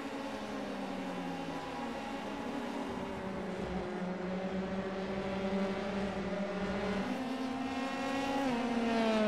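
An F3 race car engine in a sim racing game at Donington National whines steadily at high revs, its pitch climbing and the sound growing slightly louder toward the end, with no talking.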